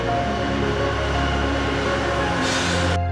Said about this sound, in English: Sishen Saldanha Railway Train.